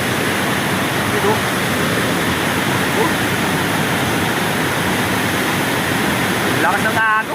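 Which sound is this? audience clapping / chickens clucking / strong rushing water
strong rushing water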